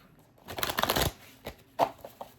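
Tarot cards shuffled by hand, a dense riffling flutter in the first second followed by a few short, crisp card snaps, close and fairly quiet with no talking.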